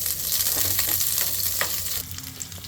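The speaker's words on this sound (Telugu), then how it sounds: "ఇదిగోండి పచ్చిమిర్చి ఆయిల్లో వేయించుకోవాలి" Green chillies fry in a little hot oil with a loud, steady close-up sizzle and occasional stirring clinks, with no talking.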